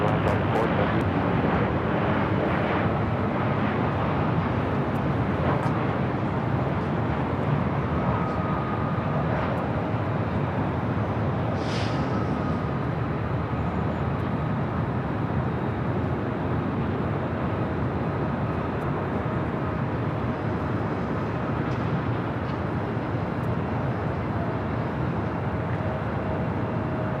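A United Airlines jet arriving at LAX from Las Vegas, heard as a continuous loud, broad engine roar from an airliner, steady throughout with a faint passing chirp.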